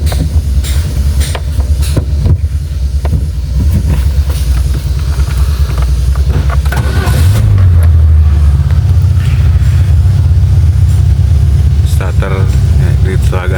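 Peugeot 206 engine cranking and then catching after a battery change, a loud, close low rumble that shifts and settles into a steady idle.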